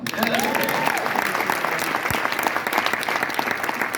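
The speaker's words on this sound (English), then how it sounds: "Yeah, you can clap for Michael" A church congregation claps for a worship leader after a song, a dense steady applause that fills the room at even loudness, with a sung or spoken voice faintly audible underneath.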